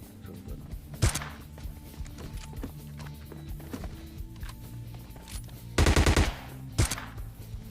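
AWM sniper rifle shots in PUBG Mobile Lite ring out as a few sharp, loud reports: one early, a longer cluster later, then one more, over quieter in-game background noise.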